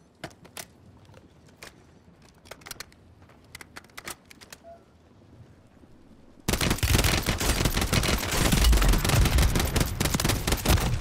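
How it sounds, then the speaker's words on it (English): Scattered distant gunshots crack sparsely in a video game battle, then about six seconds in a loud, dense barrage of rapid automatic fire starts abruptly and continues to the end. "Guy behind me shooting"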